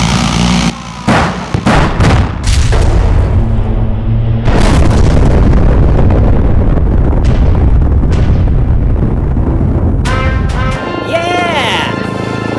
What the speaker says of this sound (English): We gotta shoot out these support beams